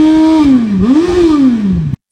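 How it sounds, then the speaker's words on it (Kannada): A 2023 Suzuki Hayabusa 1000cc motorcycle with dual exhaust, its engine note loud and close, rising and dipping in pitch as it revs for about two seconds before cutting off abruptly. "exhaust sound"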